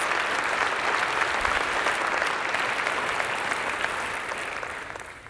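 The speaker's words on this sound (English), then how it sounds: "you deserve a round of applause" A large conference audience at a national summit plenary applauds, a dense, even roar of clapping that holds steady and loud before easing off slightly toward the end.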